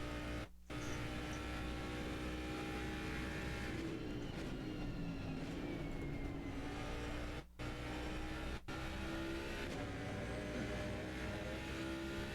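Race car engines drone steadily in Assetto Corsa Competizione sim racing at Silverstone, a continuous layered roar with shifting pitch as cars push through corners, brief dropouts marking gear changes, no talk over it.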